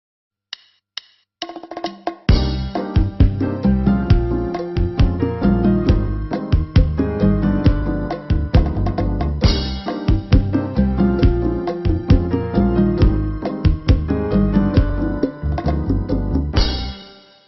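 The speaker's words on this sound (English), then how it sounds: "Further on, a Latin percussion set will be activated automatically." Yamaha DD65 hand percussion pads playing an automatic Latin percussion set: a few sparse hits, then a dense, steady rhythmic groove of drums and hand percussion lasting about fifteen seconds before stopping.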